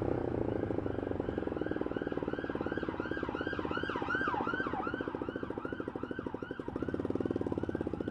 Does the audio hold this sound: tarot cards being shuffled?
no